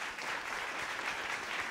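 A church congregation at a Shinjuku worship service applauds to welcome the preacher, a steady, even wash of clapping throughout.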